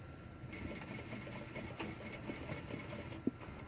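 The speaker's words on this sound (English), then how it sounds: "now I'm going to sew another 1/4 of an inch" An industrial sewing machine stitches a French seam in thin chiffon with a steady, fast mechanical hum and needle chatter at close range, one sharp click near the end, and no talking.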